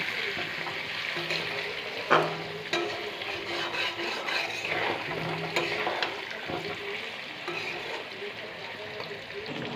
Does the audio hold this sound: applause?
no